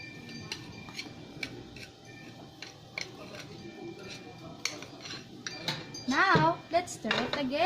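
A spoon stirs vegetables and peanut butter in a pot of kare-kare, giving irregular light metallic clinks and taps against the pot, with a brief voice near the end.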